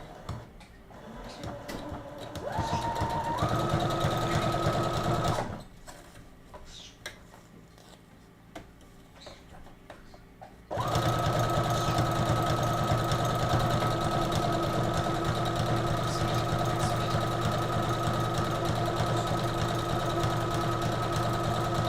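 A sewing machine stitches a line on rough test fabric in two loud, steady motor runs with a quiet pause between them. Its hum and rapid needle ticking are heard close up, with no talking.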